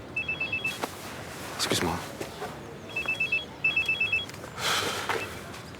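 A telephone rings in short, rapid trilling bursts, with three separate rings spread across the stretch, while a person speaks briefly over the ringing.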